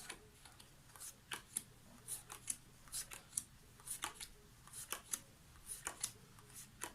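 Playing cards being dealt one at a time during a card trick, a series of quiet, crisp flicks and snaps in an irregular rhythm, close by and alone without talk.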